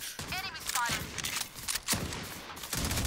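Gunfire rattles in a round of the shooter Valorant, with sharp bursts and repeated shots and a speaking voice talking over much of the action.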